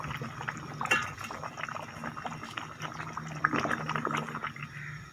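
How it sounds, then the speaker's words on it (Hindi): Water goes into a pot of potato and pea curry, a steady liquid splashing and bubbling close by, with a faint voice underneath. "अब इसमें थोड़ा पानी लगा देंगे"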